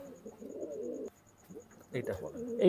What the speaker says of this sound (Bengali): হচ্ছে চীনা টেডি কবুতর